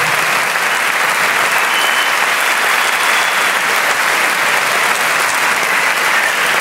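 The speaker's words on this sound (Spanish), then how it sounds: "ya nuestro compadre Juan, ese fuerte aplauso, sí señor." Loud, dense audience applause at a Mexican music evening, a continuous unbroken roar of clapping from a large crowd that holds steady throughout.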